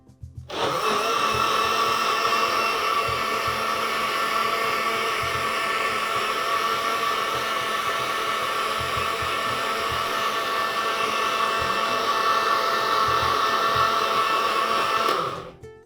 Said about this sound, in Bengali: আবারও ব্লেন্ড করে দিচ্ছি।